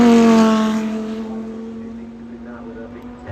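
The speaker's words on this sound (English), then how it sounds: "Sesto Elemento making its way up the hill." A Lamborghini Sesto Elemento with a V10 engine drives up the Goodwood Festival of Speed hill, its loud, high engine note fading from a strong pass into a distant drone, with a commentator talking over it.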